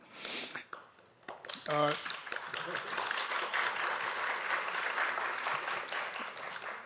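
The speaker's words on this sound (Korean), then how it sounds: "큰 박수로 다시 한번 맞아주십시오." An audience at a forum on young adults with borderline intellectual functioning breaks into sustained applause, dense clapping filling the hall after a brief spoken introduction.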